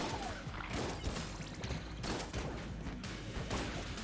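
Dense, constant barrage of explosions and gunfire in the video game Enter the Gungeon, overlapping blasts and shots packed close together at moderate loudness with no pause.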